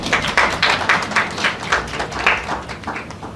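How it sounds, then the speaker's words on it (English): Claps ring out from an audience at a Guyanese event on youth mental health, a steady run of fairly close, regular bursts with no talking over them. "Yes, you can clap for that."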